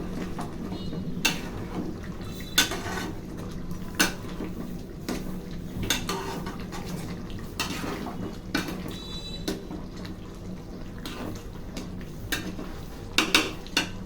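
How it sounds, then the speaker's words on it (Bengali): A spoon scrapes and clanks against a pot as braised chicken for biryani is stirred, with scattered sharp metallic knocks over a soft background hum. "ঢাকনাটা উঠিয়ে নিচ্ছি, একটু নেড়ে দিতে হবে"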